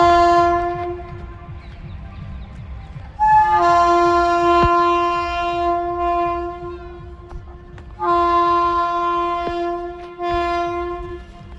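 A Vande Bharat Express passes with its horn sounding in loud, sustained blasts: one short burst, then a long blast and a third later, over a steady rumble of the train.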